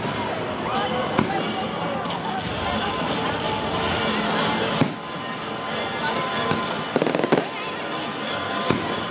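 Fourth of July fireworks burst continuously with dense crackling and booming explosions, including several sharp loud pops, while people talk and call out over the din.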